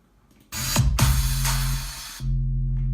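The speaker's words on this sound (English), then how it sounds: "This is just a regular sine wave with some overdrive distortion." A deep, distorted bass tone from a sine wave with overdrive distortion, made in FL Studio, holds low and buzzy, broken by a pair of bright noisy hits early on, then returns alone.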